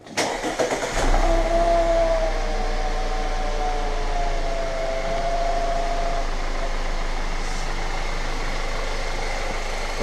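An Audi B8.5 engine fitted with a CTS intake and GFB diverter valve spacer cranks and catches on its first start, then settles into a steady idle with a faint whine, close by, with no talking.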